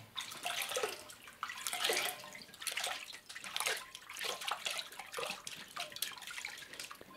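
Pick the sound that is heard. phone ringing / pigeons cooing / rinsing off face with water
rinsing off face with water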